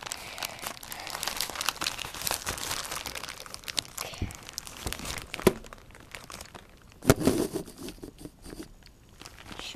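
A plastic parcel package shipped from China is torn and crinkled open close by, with irregular bursts of rustling, ripping and crackling and a sharper tearing burst near the end.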